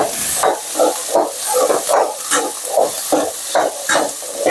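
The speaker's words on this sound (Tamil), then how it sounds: "லைட்டாக எண்ணெய் விட்டுக்குவோம். வெங்காயம் தக்காளி இது நல்லா கொஞ்சம் வணக்கிக்குவோம்." Onions and tomatoes sautéing in a little oil in a pan, a loud steady hiss and sizzle with rhythmic swells as the mixture is stirred, close up and without talk.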